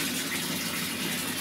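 Bath tap running as a tub fills with water in a home bathroom, readied for washing a dog; a steady, unbroken rushing gush, close and fairly loud, with no voices.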